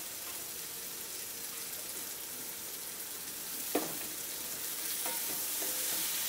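Egg and spring onion curry bubbles quietly in a pan, a low steady frying hiss with a few scraping stirs of a spoon near the middle and end.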